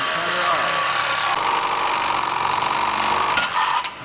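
A power saw grinds steadily through the lower control arm of a 2008 Ford Edge during ball joint replacement, a loud continuous buzzing cut that holds for about four seconds before tapering off at the end.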